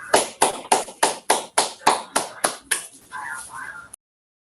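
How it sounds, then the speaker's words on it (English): Online seminar participants clap after unmuting, about ten sharp, evenly spaced claps heard close through a call connection, followed by a brief murmur of voices before the sound cuts off. "let's all unmute and give Cameron a round of applause"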